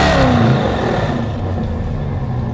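A 2020 C8 Corvette with its LT2 V8 on the stock exhaust revs loudly and close, a quick rising whir at the start settling into a steady muffled engine drone.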